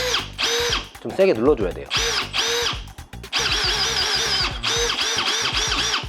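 A Festool TXS12 electronic cordless drill whirs in repeated bursts with steady motor tone and slight pitch shifts, loud and close, while a person speaks briefly between and over the runs.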